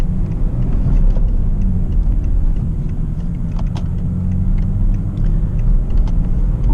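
Cabin rumble of a BMW E61 530d touring driving over a bumpy, potholed road, a loud continuous low road-and-engine drone with scattered small knocks and rattles from the suspension, no talking.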